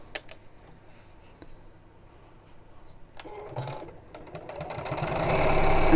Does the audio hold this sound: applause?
no